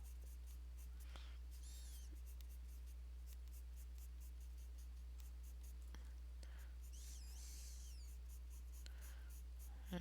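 A pear green coloured pencil shades small shoots on paper, quiet close scratchy strokes over a constant low hum, with a soft voice briefly present.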